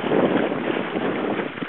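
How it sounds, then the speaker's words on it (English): Strong gusty wind on Bantam Lake during a small sailboat's shakedown run, a loud, steady roar buffeting the microphone for the whole short moment, with no voices. "Got some wild wind on Bantam Lake here."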